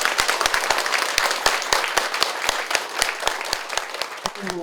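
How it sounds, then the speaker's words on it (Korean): An audience at the National Assembly Library's national strategy colloquium claps at the end of the session, brisk overlapping applause with sharp individual claps standing out, loud and continuous throughout. "좋은 발제와 토론해 주신 분들께 박수를 좀 쳐주시겠습니다"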